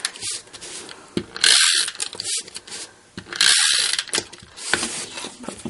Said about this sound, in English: Tape runner on here